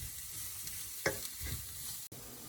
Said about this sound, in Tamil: நான் இந்த மீட்டில் இருக்கிற ஆயிலில் தான் இதையெல்லாம் ஃப்ரை பண்ணி கொண்டிருக்கிறேன்